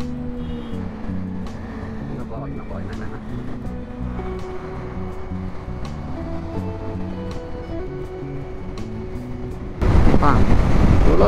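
Heavy morning road traffic on a highway, a steady wash of passing vehicles with engine hum and occasional horn-like tones, ending in a louder burst of wind or close engine roar.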